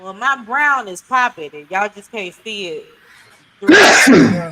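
One sharp, loud sneeze bursts out right after a person finishes speaking, close to the microphone.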